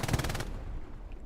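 An MG42 machine gun in a World War II shooter game lays down a rapid burst of fire for about half a second, the regular pulses then giving way to a fading echo and low battlefield rumble.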